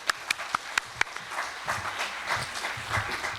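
Audience applause welcoming a university professor to the podium at a public debate forum in Changwon, starting with a few sharp individual claps before swelling into a moderate, steady round of clapping.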